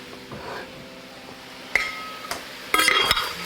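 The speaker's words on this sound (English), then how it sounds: "So now I'm going to add about a cup of brown rice, and this is dry, not cooked brown rice" Dry brown rice poured into a soup pot, heard as a few sharp clinks and a brief rattling patter of grains against metal, close and moderately loud after a quiet start.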